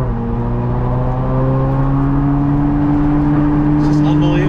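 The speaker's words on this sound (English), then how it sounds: "That does not sound like a Corvette. That, it sounds like a Ferrari 458." A Batmobile engine with a Ferrari 458-like tone revs up in a rising, sustained howl, loud and close, the pitch climbing gradually over several seconds.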